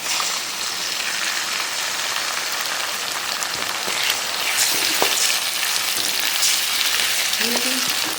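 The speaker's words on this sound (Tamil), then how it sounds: "முட்டையை நல்லா வதக்கிட்டோம்" Eggs sautéing with onions in a pan for chicken podimas, a dense continuous sizzle like steady rain, close and even, with a few faint clicks of a utensil.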